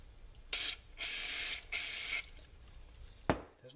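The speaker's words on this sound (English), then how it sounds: "I'm going to spray some brake cleaner down in there and clean that nozzle out." Three sharp bursts of brake cleaner hiss from an aerosol can in quick succession, the middle one longest, followed by a short click, while cleaning an old Coleman stove nozzle.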